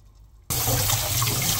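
Cold tap water abruptly begins running over freshly boiled green onions in a kitchen sink, a steady, loud rushing flow that starts suddenly and continues unbroken.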